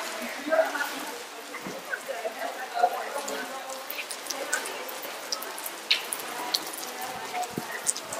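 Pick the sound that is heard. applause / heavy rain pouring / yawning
heavy rain pouring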